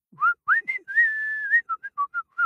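A person whistles a short, lively tune of clear rising and falling notes, including one long held note, heard close and alone.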